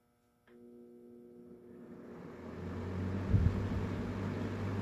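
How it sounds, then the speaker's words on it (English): A Lakewood 227 box fan switches on and its motor settles into a low, steady hum that grows gradually louder. The hum carries on alone, with no voices over it. "It doesn't have much of a startup sound, but it has a bit of a motor hum."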